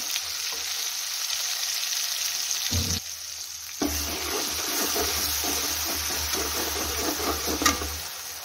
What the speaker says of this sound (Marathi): मस्त असं लसूण ठेचा फ्राय करून घेऊ